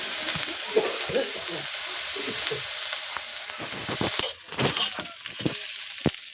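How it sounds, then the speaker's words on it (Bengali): Prawns frying slowly over low heat in a pan for a cabbage curry, a steady soft sizzle running throughout with occasional clinks and stirring clatter near the end. "আস্তে আস্তে করে ভেজে নিতে হবে মাছটা"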